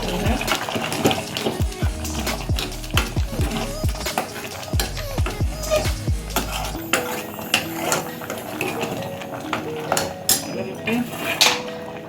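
A spoon scrapes and clatters in a pot of cowpea gravy, with repeated metallic knocks and stirring scrapes under a steady bubbling bed, while someone talks throughout.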